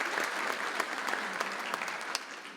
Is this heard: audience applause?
yes